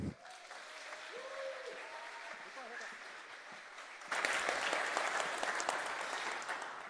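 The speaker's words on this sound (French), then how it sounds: "Veuillez applaudir très très fort notre prochain speaker." Audience at a French developer conference on Angular and AnalogJS bursts into loud, dense applause partway through, following quieter room murmur and talk.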